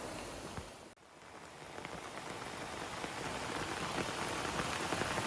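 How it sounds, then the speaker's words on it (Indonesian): Heavy rain pours steadily onto a camping tent beside a river, a dense unbroken hiss with a brief dip near the start before building slightly louder. "Akhirnya tenda kami diguyur hujan deras juga nih."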